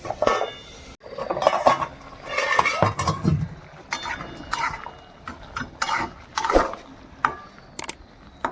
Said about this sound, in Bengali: এবার ঢাকা দিয়ে দেবো, ঝপ করে হয়ে যাবে।